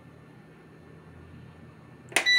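A two-burner electric cooktop switches on with a short bright electronic beep near the end, after a stretch of quiet kitchen room tone.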